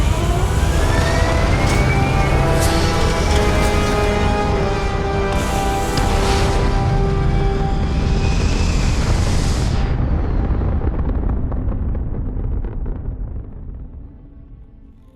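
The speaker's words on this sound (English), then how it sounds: "All thrusters firing." Spaceship thrusters fire in Starfield, a loud, sustained roaring rush with rising whine-like tones and bursts of hiss, continuous for most of the span before fading out toward the end.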